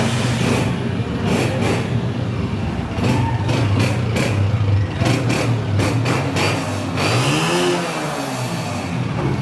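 A Honda 125 motorcycle engine runs close by, a steady low putter that rises into several sharp revs near the end.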